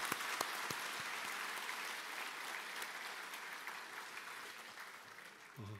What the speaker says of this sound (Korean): 우리 한번 박수로 격려해 드리겠습니다.